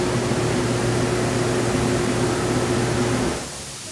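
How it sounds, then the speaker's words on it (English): Ozone bubbles rise through the salt water of an Arctic Spa Classic Series Totem hot tub, a steady, loud fizzing hiss with a low mechanical hum that drops away abruptly near the end. "Now there come the bubbles from the ozone."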